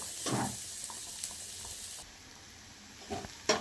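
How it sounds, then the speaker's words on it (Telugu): Onions fry in a pan with a soft sizzle and a few stirring scrapes, fairly quiet and close, with one louder clatter at the end. "ఈ ఆనియన్స్ బ్రౌన్ కలర్ వచ్చే వరకు ఫ్రై చేసుకుందామండి."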